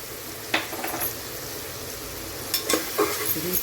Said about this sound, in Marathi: आलं लसूण कोथिंबीर आणि मिरचीची पेस्ट टाकते